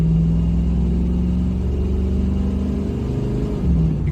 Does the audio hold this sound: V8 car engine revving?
yes